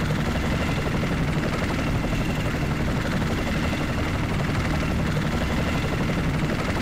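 Helicopter in the video game Project Reality on the Goose Green map, its rotor and turbine giving a loud, steady drone that holds without a break for the whole stretch, with no talking over it.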